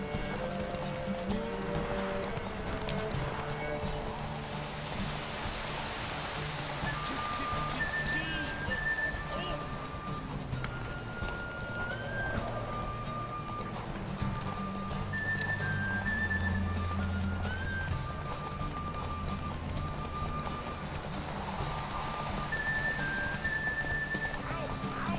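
Roach the horse gallops through The Witcher 3 on Nintendo Switch, hooves clip-clopping steadily under game music and ambient whistling and rain-like wash, with a voice speaking briefly over it.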